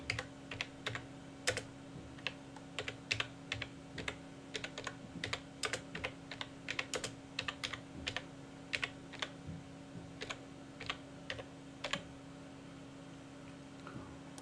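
Steady typing on a computer keyboard, a quick irregular run of crisp, close key clicks lasting several seconds over a faint background hum, with no talking.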